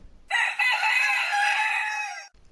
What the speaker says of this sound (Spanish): y enseguida cantó un gallo